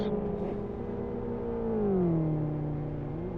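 A game car's exhaust revs and settles, the engine pitch sliding up then dropping in a smooth whine, faint and steady.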